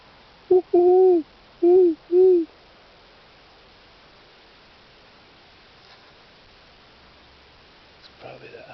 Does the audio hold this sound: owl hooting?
yes